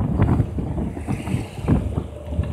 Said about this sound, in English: Wind speed about 17 to 20 knots